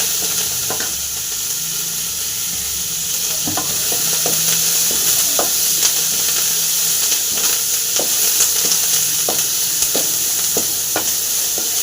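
Pepper, cumin, chilli and curry leaves fry in hot oil with a steady bright sizzle, broken by repeated sharp clicks and scrapes of stirring, close and continuous without voices.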